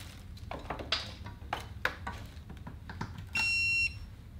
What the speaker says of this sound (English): we just went ahead and plugged it in and you heard that little beep